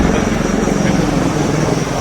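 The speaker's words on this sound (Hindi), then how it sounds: "भारतीय सेना के लाइट हेलीकॉप्टर्स ध्रुव और रुद्र" Indian Army Dhruv and Rudra light helicopters pass over a Republic Day parade on Kartavya Path, a steady loud rotor and engine roar filling the whole stretch without clear talk.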